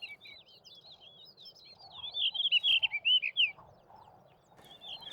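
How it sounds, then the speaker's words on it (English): A blue rock thrush calls repeatedly with quick, high, warbling whistles, moderately close, over a soft low background hum. "His delicate call can already be heard in February"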